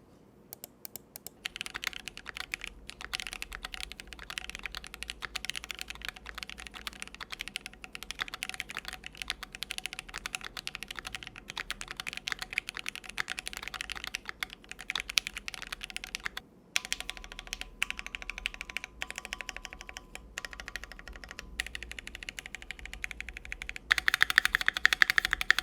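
Someone types steadily on a Keychron Q1 keyboard fitted with lubed and filmed Gateron Black Ink switches and GMK keycaps. It gives a continuous, close stream of deep, even keystrokes for about twenty-five seconds with no talking.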